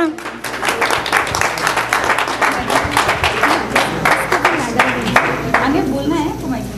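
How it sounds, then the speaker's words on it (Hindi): Loud, dense clapping from an audience at a Hindi poetry gathering in Milpitas, California, applauding children, fills the whole stretch, with scattered voices underneath. "इन सब बच्चों के लिए जोरदार तालियां"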